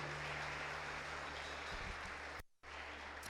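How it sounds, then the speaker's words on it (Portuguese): Church congregation applauding during a service in Manaus, Brazil: dense, steady clapping fills the room without a break, then drops out abruptly for a moment before it resumes. "Aplaudam Ele em nome de Jesus."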